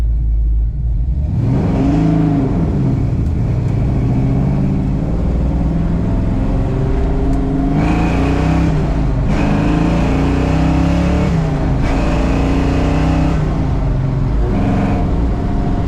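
A 1956 Chevrolet Bel Air Nomad with a big block engine and 4-speed revs repeatedly, a loud, deep, rumbling idle rising into several throaty swells and falling back, close and continuous with no talk.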